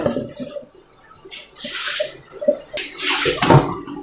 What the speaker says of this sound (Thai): เราก็กรองน้ำทิ้งนะคะ เดี๋ยวเราจะล้างสักสองรอบนะคะ